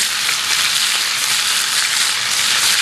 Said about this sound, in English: I want to hear that sizzle.